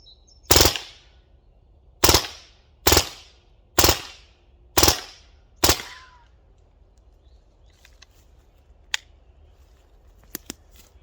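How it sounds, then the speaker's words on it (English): An air gun fires .25 caliber pellets into the box of a small 1:43 scale diecast metal truck, giving six sharp, loud, close shots at irregular intervals of about a second, followed by quiet with a few faint ticks. "I'm using this 26 grams 25 caliber pellets. I have this round here, so I will shoot like, I don't know, 70 to this box."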